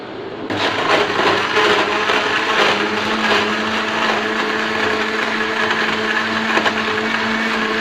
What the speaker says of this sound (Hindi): अब हम इसे अच्छी तरह ग्राइंड करेंगे